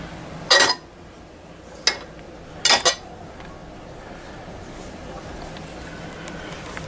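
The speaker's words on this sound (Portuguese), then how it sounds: "Aqui no cesto inferior, né? Como sempre, um monte de pratos." Plates clink against the lower rack of a Midea dishwasher in three short, close rattling bursts, with quiet room hiss between them.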